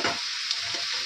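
Chicken sizzling and frying as it is sautéed (kosha) in a pan, a steady bright crackle with a few soft stirring scrapes, close and continuous with no talking.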